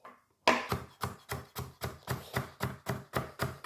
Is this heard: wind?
no